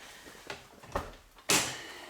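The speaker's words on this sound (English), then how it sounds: "So the first thing you have to do is open the front door and" A front door of a second-generation Saturn S-Series car is opened, with a few soft clicks and then a sharp, loud unlatching clunk close by near the end.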